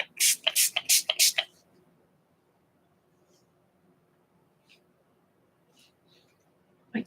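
Four or five quick bursts of 'cracked pistachio' colour spray ink for art hiss out in a tight cluster at the start, then near silence follows with a few faint ticks and soft rustles.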